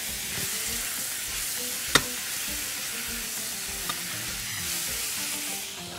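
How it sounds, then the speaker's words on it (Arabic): Garlic powder, paprika and grated tomato being stirred in a pan while making stuffed chicken, with a steady close sizzle, an occasional sharp scrape of the spoon and no voices. "هحط معلقه صغيره من الطماطم المبشوره واقلب كده"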